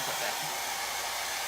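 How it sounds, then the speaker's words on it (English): Steady, loud whooshing hiss of a hair dryer blowing continuously, close by and unbroken. "So I am just using a basic hair dryer, and I apologize for the noise"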